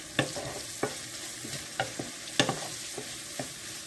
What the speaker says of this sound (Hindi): इन्हां नूं हुण आपां चंगी तरह ब्राउन होण तक भुन्नांगे।